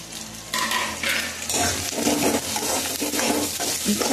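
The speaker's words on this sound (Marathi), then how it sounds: "मोहरी आपण कांद्यामध्ये टाकून देऊ। छान असं परतून घ्यायचं।" Onions with mustard seeds sautéing in a pan for chivdichi bhaji, a loud continuous sizzle with repeated spatula scrapes and stirring clatter close by.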